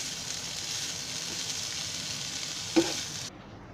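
Bitter gourd pieces fry and sizzle steadily in a pan for a few seconds, with a brief clatter from stirring near the end before the sizzle drops away.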